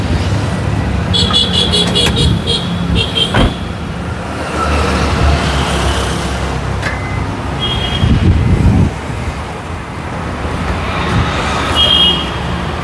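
The 2000cc engine of a used Toyota Noah runs with a low, steady rumble amid roadside traffic noise, while car horns toot several times in the background.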